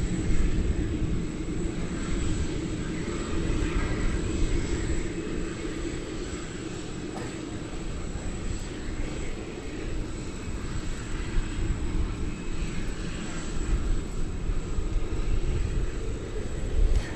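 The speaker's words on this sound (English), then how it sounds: "I do believe we're going to get to see this takeoff right here." A UPS Boeing 747 takes off at DFW Airport at night, its engines making a steady, broad roar with a continuous hiss that holds evenly throughout, heard from a distance without speech.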